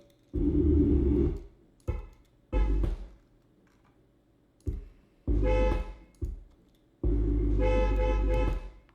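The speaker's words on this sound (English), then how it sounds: "So we need to find the waveform where that honking was." A car horn honks in repeated blasts of varying length, some short taps and some long sustained toots, loud and close, captured with wireless lavalier mics, with brief quiet gaps between.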